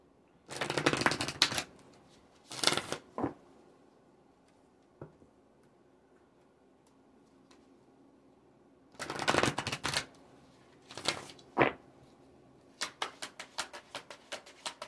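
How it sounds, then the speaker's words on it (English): Oracle cards are shuffled in short riffling bursts, separated by quiet pauses and ending with a run of light flicks, close and fairly soft. "I'm going to pull some Oracle cards for you."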